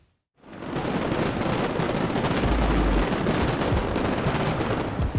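Fireworks set off by trained bomb squad personnel in a safety demonstration burst into a rapid, continuous crackling barrage after a brief silence, loud and sustained like gunfire with a few sharper bangs.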